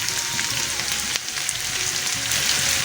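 Chopped onion and potatoes frying in a pan for a home-style stir-fry of garden Malabar spinach, giving a steady, close, dense sizzle with faint crackles throughout and no talking.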